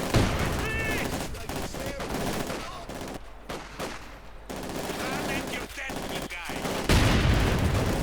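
Gunfire and mortar fire from the World War II strategy game Company of Heroes 2, with dense bursts of shots and heavy booms continuing through the clip over a steady battle din.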